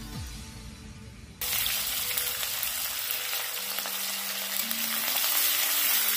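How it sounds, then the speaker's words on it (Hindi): Sliced onions drop into hot oil already crackling with cumin and dry red chilli, then sizzle loudly and steadily in the pan for several seconds after a sharp surge. "प्याज को हमने डाल दिया है। अब इसको हम अच्छे से फ्राई कर लेंगे।"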